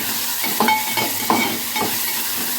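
Onion and tomato frying together in a pan for Maggi noodles give a steady close sizzle, with a few soft stirring scrapes through the crackle.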